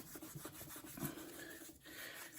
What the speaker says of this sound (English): The steel wool seems to be penetrating one more layer.